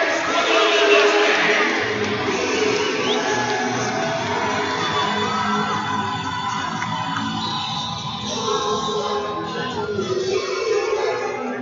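An energized crowd cheering at an arena football game between the Raiders and SteelHawks, a steady wash of distant cheering and shouting in a large venue with a commentator talking over it.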